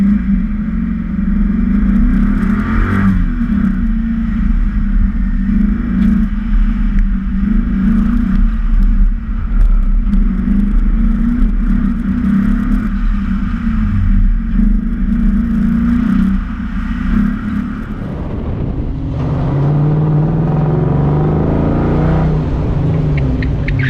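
A car is driven hard around a tight autocross course at a Ford Mustang event in the Smokies, its engine droning loudly and steadily near the microphone, with revs surging and dropping between short straight drags and corners.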